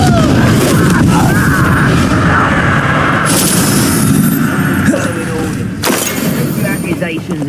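A Confringo blasting curse erupts in the Hogwarts Legacy video game, a loud booming explosion with bursts and crackling debris over continuous battle noise, followed by a second sharp blast later on.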